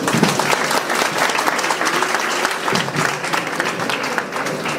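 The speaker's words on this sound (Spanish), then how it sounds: "Vamos a agradecerle con un aplauso" An audience at a talk given by a priest breaks into sustained applause, loud and continuous, with many hands clapping at once.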